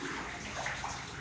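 Waist-deep water inside a tunnel dug at home, about 250 feet in, rushes and sloshes in a steady, continuous wash that fills the space without pause.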